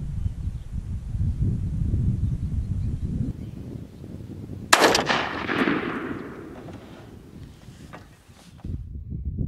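A single loud shotgun blast rings out outdoors from a turkey-hunting gun fitted with a TRUGLO Gobble Stopper choke and loaded with Winchester Longbeard number 5 3-inch shells at 30 yards. The report is sharp and decays into a rolling echo, with steady background noise before it.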